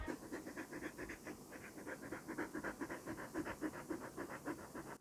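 A dog pants rapidly and steadily right up against the microphone, a close, breathy rhythm that continues without a break.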